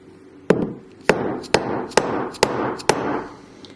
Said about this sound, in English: with just a couple of taps of your hammer, you will transfer this shape to your piece of silver